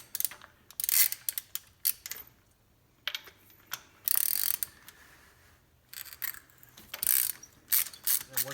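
Ratchet wrench loosening spark plugs on a 1997-2001 Honda CR-V B20 B-series engine, bursts of quick close clicking separated by short quiet gaps.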